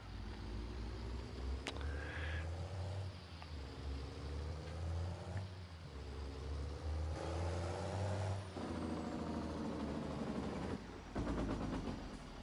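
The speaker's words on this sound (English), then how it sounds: "Oh, I love that sound of that truck." A truck engine in Farming Simulator 22 revs and shifts through several gears, a loud, continuous low drone rising and dropping, with a brief hiss partway through.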